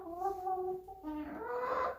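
Young backyard chickens cluck nearby in a steady run of short, tonal calls with brief pauses, the bird sounds alone and fairly loud throughout.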